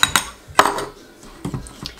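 A utensil clinks and scrapes against a bowl while melted gelatin is stirred into a cake glaze, several sharp taps in an uneven rhythm, close and clear with no talking.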